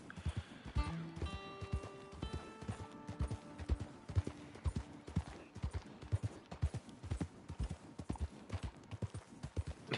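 Horse hooves clip-clop at a steady gallop in Red Dead Online, a rapid rhythmic drumming of close, distinct hoofbeats lasting throughout, with a brief whinny-like tone early on and faint speech in the background.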